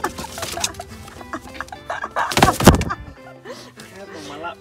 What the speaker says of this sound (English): Why are all these birds jumping on us?